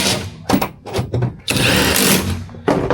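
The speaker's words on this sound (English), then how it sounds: "I'll just go around and put all these screws back in" A power driver puts screws back into a Silverado truck's interior trim cover, with short, loud bursts of whirring separated by brief pauses.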